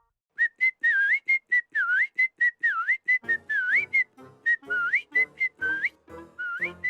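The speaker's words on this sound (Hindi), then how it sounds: "ये सीटी बजाने का वक्त नहीं है।" Someone whistles a series of short, rising and falling notes in quick succession, bright and close, with a low rumble joining midway.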